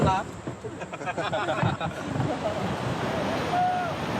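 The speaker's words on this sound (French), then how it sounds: "Les prochains rapides se présentent déjà." River rapids roar around a raft in the Borneo rainforest, a broad, steady rush of churning water close by, with wind buffeting the microphone and brief voices heard over it.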